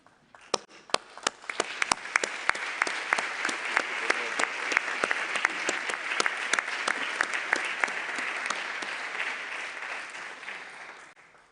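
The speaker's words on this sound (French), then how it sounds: "Je propose par conséquent que nous l'adoptions par acclamation." An assembly hall audience claps steadily to adopt a declaration by acclamation at a General Assembly session of States Parties, a dense sustained applause with a few sharp nearby claps, running for about ten seconds and fading at the end.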